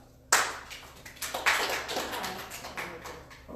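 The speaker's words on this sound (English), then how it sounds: "If that's the issue, I want you guys to clap." Clapping from a small audience breaks out abruptly after a quiet moment, a scattered, uneven patter of hands that swells and then thins out, moderately close and without talk.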